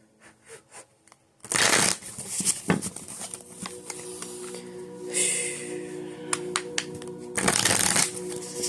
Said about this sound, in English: I heard 12 shuffles, so I'm going to do 12.